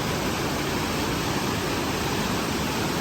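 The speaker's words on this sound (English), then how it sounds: "And that's the end of the waterfall right there." Yosemite Falls roars as a steady, dense wash of falling water, loud and unbroken throughout, with no voices over it.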